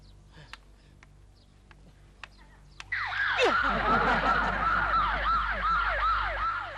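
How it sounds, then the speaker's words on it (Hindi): Ambulance siren arriving after a few light clicks, then a loud wailing, sweeping siren with a deep engine rumble beneath it, close by and steady to the end. "लगता है एम्बुलेंस थी।"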